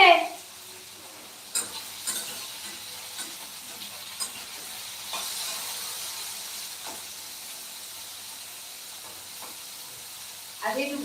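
Okra and chopped onion frying in a pan at home, a soft continuous sizzle and hiss with a few stirring clinks, fairly quiet and close.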